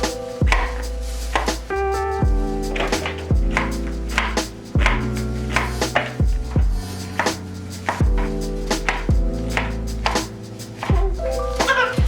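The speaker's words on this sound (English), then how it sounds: "So I'm gonna chop all these veggies" Peppers and onions chopped on a cutting board, a run of firm knife strikes in an uneven rhythm with gaps, loud and close over faint background music.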